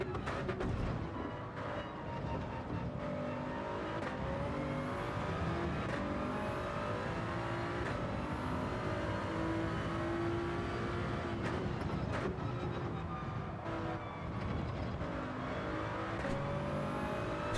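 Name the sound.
Toyota Supra race car engine at Red Bull Ring, racing video game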